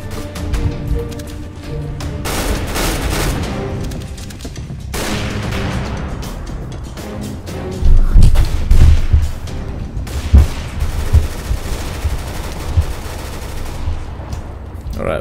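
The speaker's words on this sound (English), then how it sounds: "Machine gun versus sniper." Rapid machine gun bursts ring out in a Counter-Strike: Global Offensive gun game match. The loud, dense rattling volleys come in repeated bursts mixed with other gunshots, with no one talking.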